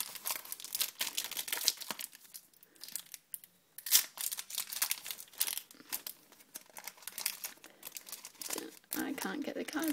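A Pokémon Legends Awakened trading card booster pack is torn and pulled open, with close, crisp bursts of foil crinkling and tearing that come in uneven spurts with short pauses in between.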